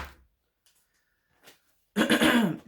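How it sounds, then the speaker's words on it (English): A short throaty cough bursts out near the end after a mostly quiet stretch with a faint noise or two. "I'm gonna cough."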